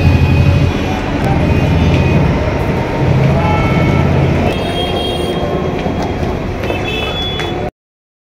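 A train rumbles past close by, loud and steady, with a dense roar of wheels and carriages that holds for several seconds before cutting off abruptly.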